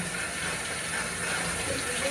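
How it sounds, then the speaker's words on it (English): Tap water runs steadily into a tub during a dog's bath, a constant broadband rush at moderate level with no talk over it. "I forgot to turn off the water."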